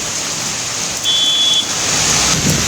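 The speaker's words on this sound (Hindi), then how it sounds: "देहरादून में मौसम का मिजाज बदलता हुआ और झमाझम बारिश की शुरुआत हो" Heavy monsoon rain pouring in Dehradun amid strong winds, a dense steady hiss of downpour close by with a faint thin tone briefly above it and no voices.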